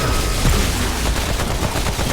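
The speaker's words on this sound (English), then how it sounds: "Fucking blatted that guy in the face with a grenade." Dense, loud crackling gunfire and blasts from the video game Remnant: From the Ashes, with a grenade going off amid rapid continuous shots, no pauses.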